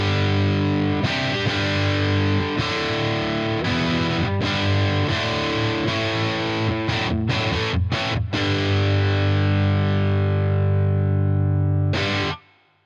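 An electric guitar plays through a BOSS Nextone amp set to its tube power section, giving a driven, slightly chorused tone; busy chords and riffs run continuously for about twelve seconds, with short choppy stops, then cut off.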